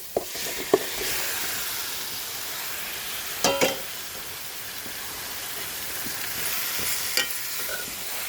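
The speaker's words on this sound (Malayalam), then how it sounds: "ചിക്കനൊന്ന് ഇളക്കി യോജിപ്പിച്ച് കൊടുക്കുക" A steady hiss of chicken frying fills the pan, with brief scraping stirs and a couple of clinks, close and continuous with no talk.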